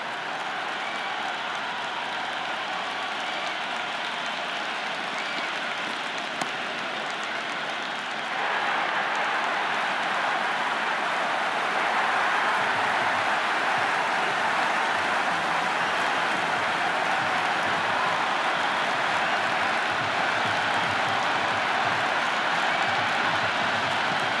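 Stadium crowd in the cricket video game Cricket 26 during an IPL match, a continuous loud roar of cheering that swells slightly partway through and holds steady throughout, with no distinct voices.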